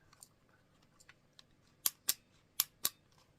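Four sharp, crisp dry-fire clicks from a Bersa Thunder 9 replica pistol, close and loud, in two quick pairs after some faint handling taps.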